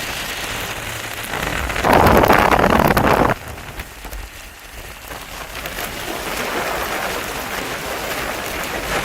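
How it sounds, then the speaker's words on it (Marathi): Steady rain falls throughout, with a louder, denser burst of downpour for a couple of seconds early on before settling back to a continuous even patter. "सुंदर सुंदर पाऊस."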